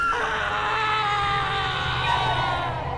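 Overlapping anguished screams in the horror video game Veneficium, set in a forest during a satanic ritual, form a loud, sustained wailing chorus lasting the whole stretch with no pauses.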